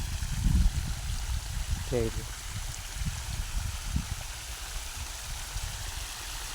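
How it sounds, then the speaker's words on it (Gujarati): Water gushes along a makeshift channel, walled off beside a ditch, into a groundnut field, a steady close rushing and gurgling broken by low thumps, while someone speaks briefly over it. "આવી રીતના પાણી વાળું છું"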